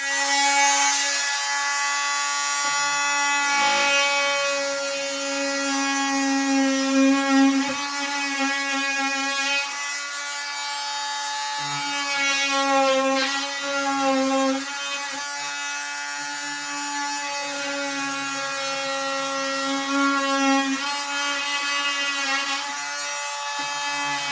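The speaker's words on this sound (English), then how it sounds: "It's an oscillating tool." Oscillating multi-tool making a shallow cut in drywall while installing a receptacle behind a wall-mounted TV, a continuous high buzzing whine that wavers in pitch as the blade bites, close and loud throughout.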